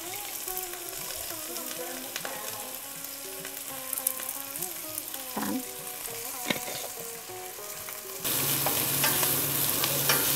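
Red onions fry in a pot for a vegetarian pilau, a close, steady sizzle with stirring scrapes and clinks, swelling to a louder, denser hiss near the end.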